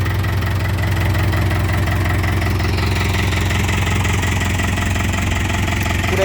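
A John Deere farm tractor with a round injection pump runs steadily at idle, its engine a constant, smooth low rumble with a slight knock, close and loud throughout, no one speaking.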